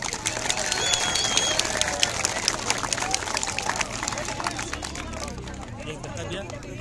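A crowd at an under-18 football tournament ceremony gives a sustained round of applause, a dense wash of clapping that holds steady and slowly thins out, with voices murmuring underneath.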